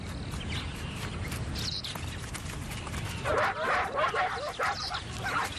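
African wild dogs give a burst of high yips and twittering barks in the second half, near and fairly loud over a rough outdoor background, with a narrator's voice earlier.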